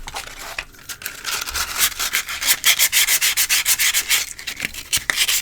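Micarta knife scales being sanded by hand to roughen the fibers before dyeing, a close, rhythmic scratchy rubbing with quick back-and-forth strokes that speed up partway through.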